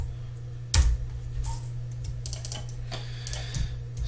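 Keys on a computer keyboard clatter in a quick, uneven run of clicks while notes are entered into music notation software, close and fairly quiet over a steady low hum, with no one speaking.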